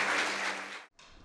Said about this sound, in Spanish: quiero que demos las gracias con un caluroso aplauso, por favor, al doctor Stephen.